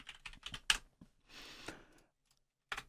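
Quiet bursts of typing on a computer keyboard: a quick run of clicks, a soft pause with a brief rustle, then a final short cluster of keystrokes, close and faint, with no voices.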